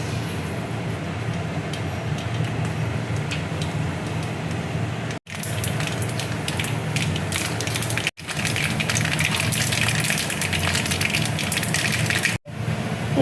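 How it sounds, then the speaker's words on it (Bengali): Mustard seeds hit hot oil in a wok and sizzle and crackle loudly and continuously, broken by three brief silent gaps. "কড়াই দেখো তেল দিয়ে দিয়েছি, এবার আমি দেখো সর্ষে ফোড়ন দিয়ে দিচ্ছি।"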